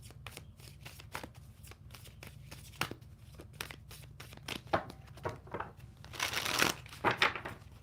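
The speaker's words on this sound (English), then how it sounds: "Two more shuffles." A tarot deck being shuffled by hand: repeated crisp riffling bursts of cards, quiet and close, building to a denser flurry of card noise near the end with no talking.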